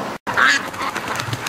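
Spooked ducks at home quack briefly, a short raspy burst of calls, fairly close, over a steady outdoor background.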